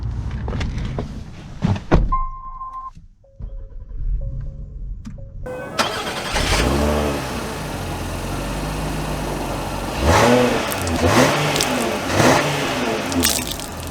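2023 Acura MDX A-Spec starting up and pulling away, engine note rising steadily as it accelerates, close and loud, after a few brief clicks and a quiet pause.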